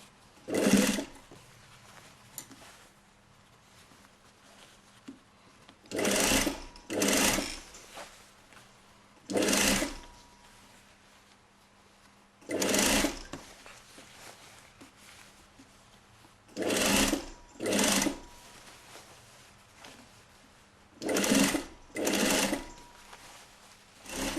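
A sewing machine stitching seams on a basque corset, running in short bursts of whirring stitches separated by pauses, close and distinct.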